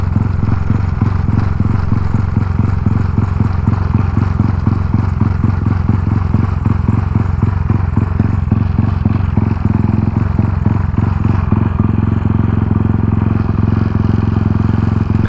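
Motorcycle with a freshly rebuilt engine ridden steadily, a loud close rhythmic engine pulse holding throughout, shifting slightly in pace near the end, with no talk.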